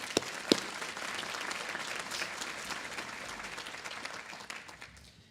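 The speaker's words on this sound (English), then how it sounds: "let's give them one more round of applause" Audience applause at a law school commencement, a broad steady wash of many hands clapping for about five seconds with a couple of sharp louder claps early on, then easing off toward the end.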